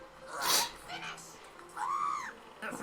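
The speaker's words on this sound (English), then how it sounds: "Does that bird's voice go through anybody else?" A shrill, piercing bird call from the animated show The Dragon Prince rises and falls twice, loud and near, separated by quieter moments.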